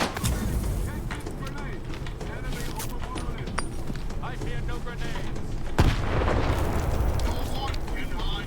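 Rapid gunfire with heavy recoil in the shooter game Stalker 2, loud bursts of shots and booming impacts packed close together, with a voice speaking over the combat.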